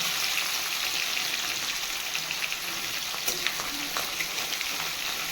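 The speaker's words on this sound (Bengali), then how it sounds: "কড়াইয়ে তেল গরম করে আমি হালকা করে পনিরটাকে ভেজে দিই" Paneer lightly frying in hot oil in a kadai, a steady, bright, crackling sizzle throughout with a few faint clinks, close and even in level, no talking.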